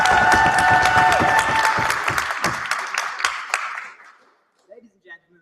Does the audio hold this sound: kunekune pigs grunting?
no